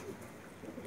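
A pigeon coos softly on a rooftop loft, a brief low murmuring call that is faint and a little distant.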